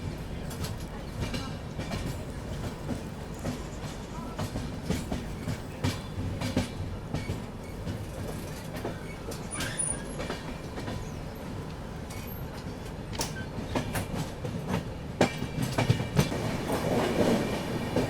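Rajdhani Express rumbling along the rails on a long run through India's Konkan route, steady wheel clatter and carriage rattle with rhythmic clickety-clack and occasional louder knocks, heard from inside the moving train.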